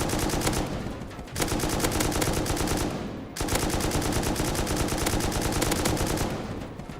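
Video game gunfire in sustained rapid automatic bursts, loud and dense, with a brief pause before a second long stream of shots.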